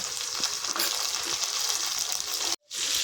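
Roughly chopped tomato hits hot oil with frying onion and garlic, a bright continuous sizzle that breaks off briefly near the end and then returns.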